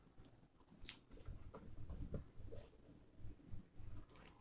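Pen scratching on paper during a math lesson, close and faint, with irregular strokes and short pauses and no speech over it.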